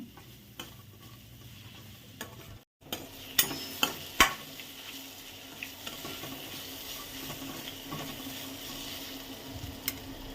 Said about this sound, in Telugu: ఇలా సాల్ట్ కూడా వేసుకొని అంతా కలిసేలాగా ఒకసారి కలుపుకొని